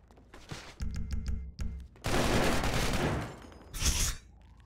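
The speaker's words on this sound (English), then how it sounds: "I might have just shot my gun" Gun fired in GTA roleplay: a quick run of sharp shots, then a longer loud burst of rapid fire and a final blast, close and harsh with brief gaps between.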